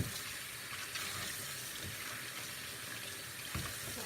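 Steady running water from a kitchen tap rinsing three large zucchinis in a sink, a continuous close splashing hiss with a few brief louder splashes, no talking.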